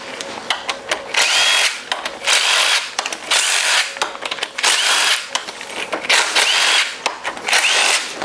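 A power tool whirs in loud, repeated short bursts with brief pauses between them while unbolting the pressure switch manifold from a 4L80E transmission during a teardown.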